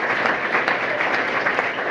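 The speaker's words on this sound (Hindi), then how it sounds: "ताली बजाओ जी, ताली बजाओ" An audience at a talk claps together briefly, a dense, steady patter of many hands with a few louder individual claps standing out.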